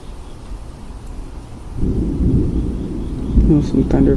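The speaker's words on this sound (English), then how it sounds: "There was a CG lightning strike that was that I just saw over there in the distance. That's where that thunder is coming from." Low rumbling thunder from a distant cloud-to-ground lightning strike beneath a small isolated storm cell, swelling after a quiet start into a sustained outdoor roll that continues to the end.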